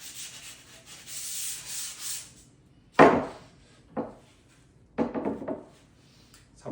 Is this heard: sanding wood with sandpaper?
yes